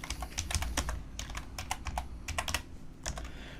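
Quick, light keypresses on a computer keyboard typing an alt code number sequence, a soft irregular patter of about a dozen clicks close by, no talking.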